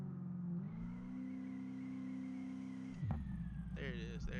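A car engine in BeamNG.drive held at a steady drone on the two-step launch limiter for a few seconds, then a sharp change and a brief rising rev burst near the end, with a voice talking in the background.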